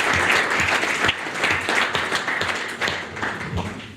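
A round of applause at a business gathering, dense steady clapping from a sizable group held for a few seconds at close range, with faint voices murmuring underneath.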